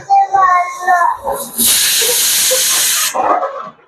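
A pressure cooker releases a loud, steady hiss of steam for about a second and a half, with voices just before and after.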